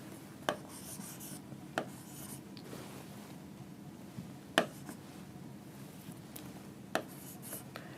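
Math equation being written by hand on paper, heard as soft, continuous pen scratching and rubbing with a few sharper taps and strokes scattered through, faint and close in a quiet room.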